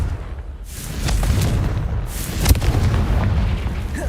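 A Confringo fire spell goes off in the Hogwarts Legacy game, a rumbling blast that swells and peaks with a sharp crack amid ongoing low game noise.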